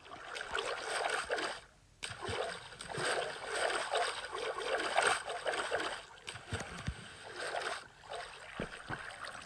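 Splashing, gurgling water from a quick ride down the green water slide on a Minecraft Dream Island build, a steady rushing stream with swelling bursts and a brief drop to near quiet partway through.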